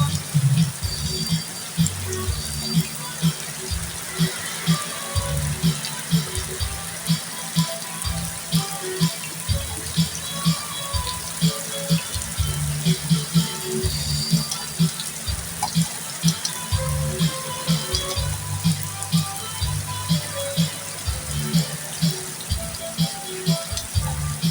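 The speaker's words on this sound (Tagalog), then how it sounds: "Ito, kahapon pa umulang kapatid. May bagyo." Steady heavy rain pours down during a storm with a constant hiss and dense patter, a low rumbling roar beneath it, unbroken throughout.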